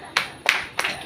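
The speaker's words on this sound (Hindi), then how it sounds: "वेरी गुड, ताली बजाओ सिस्टर।" Three separate handclaps in a church service, spaced a fraction of a second apart, fairly close and with no talk over them.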